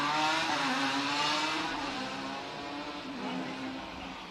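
Motorcycle engines race up the mountain road at the Vittorio Veneto–Cansiglio hill climb in Italy, a loud, steady engine drone that holds at full strength and eases off slightly, with no voices.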